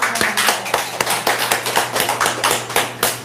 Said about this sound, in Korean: 여러분들 축하의 박수 해드리죠.